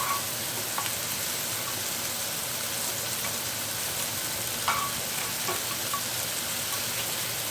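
Mushrooms and minced onion fry in a pan on lowered heat, giving a soft, even crackle with occasional pops and the scrape of stirring.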